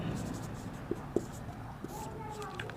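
Pen scratching out a multiplication on paper for a class 10 maths problem, soft close strokes with a few small taps, under quiet speech.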